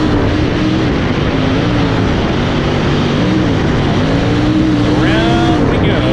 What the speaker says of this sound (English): The 77 AU car coming around here for lap number 1.